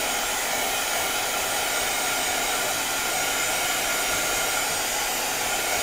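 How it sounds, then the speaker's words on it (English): A small handheld heat gun drying acrylic paint on a mixed-media piece, blowing a steady, close, loud airy roar that holds unbroken throughout with no talking. "I have my little heat gun here and that I'm just gonna dry really quick."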